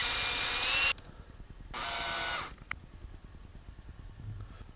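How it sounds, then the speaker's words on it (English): Two short bursts of a high-speed electric drill whir up close, drilling holes in a 1/14 scale model truck fifth wheel, separated by a brief pause, followed by a small click and quiet handling. "Let's drill another one."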